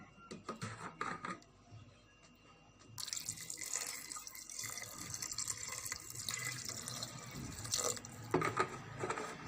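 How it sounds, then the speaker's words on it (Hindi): Water from a glass runs and splashes steadily into a cooking pot for several seconds, with some clinking and handling noises before the pour begins. "एक गिलास इसमें पानी डाल देंगे।"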